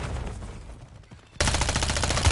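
Video game gunfire bursts out loud and sustained in the second half, following a quieter stretch of background game sound.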